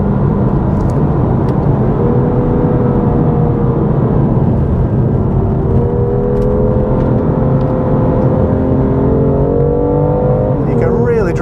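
Car engine held under throttle while the driver left-foot brakes through corners and downshifts to third, a loud steady drone with rising and falling rev tones inside the cabin, under someone talking.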